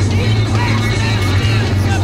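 On a race track during a lap, a car engine drones loud and steady as it accelerates, with a low throbbing tone and broadband road noise, while someone talks over it.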